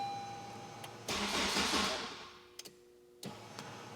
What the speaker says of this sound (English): So the first time it cranked like 5 times, the second time like 3 times, and now like twice.